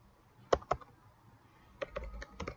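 A few quiet keystrokes on a computer keyboard, a pair of sharp clicks early, then a short run of typing near the end, close and otherwise quiet.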